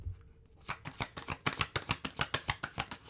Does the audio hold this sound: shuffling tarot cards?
yes